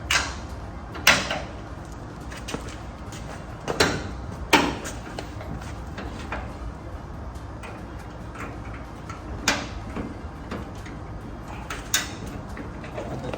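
Someone moves and shuts a door at close range: a series of sharp knocks, clicks and thuds at irregular intervals over a quiet room background, with no talking.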